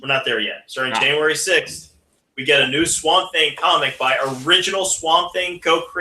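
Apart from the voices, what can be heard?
No distinct noise like a dog, phone or traffic.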